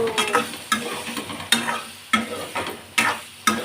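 Eggplant frying in a pan, loud sizzling broken by rhythmic stirring scrapes about every three-quarters of a second, close and alone with no talking.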